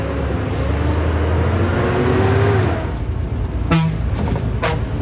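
A TNSTC state transport bus on the Gudalur to Trichy route rumbles past at close range, its engine drone swelling loud and then easing off, followed by two short horn toots near the end.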